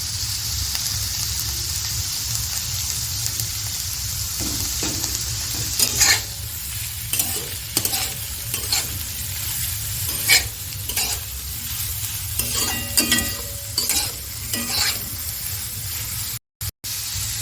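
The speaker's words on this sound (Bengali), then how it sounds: "এবার আমি ভালো করে সমস্ত সবজি ভেজে নেবো।" Chopped cabbage, tomato and other vegetables are stir-fried for chowmein in a pan, a loud continuous sizzle broken by repeated scraping, tossing strokes of a spatula, close up with no talk.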